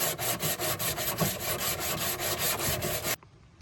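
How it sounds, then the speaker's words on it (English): Sandpaper scrubs back and forth along a plywood edge on a DIY camp kitchen build, close, steady rhythmic rasping strokes that stop abruptly near the end. "And then you just clean it up with some sandpaper."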